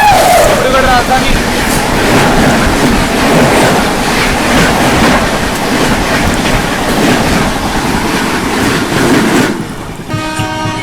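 The Dibrugarh Rajdhani Express rushes past during a crossing, a loud, close, continuous roar of wheels and carriages with rhythmic rail clatter that drops off sharply near the end.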